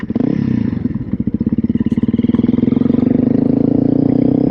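A Honda CRF 300L dual-sport motorcycle engine idles loudly and steadily, its rapid thumping pulse close by and continuous, with a slight rise in revs.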